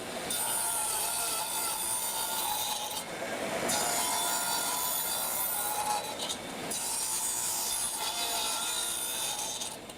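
A hand saw cuts wood boards for a blanket ladder in steady back-and-forth rasping strokes, close and continuous, pausing briefly twice between runs.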